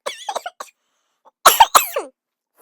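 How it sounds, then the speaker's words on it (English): A few short, harsh coughs in two bursts, close and fairly loud, with a brief pause between them. "So I was just coughing a lot."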